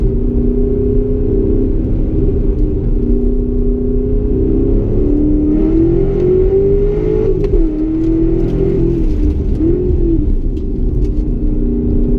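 A 627-hp Callaway Corvette engine revs hard under throttle on a figure-eight track, a loud, continuous low rumble whose pitch climbs and falls with sharp throttle blips, close and steady with no talking.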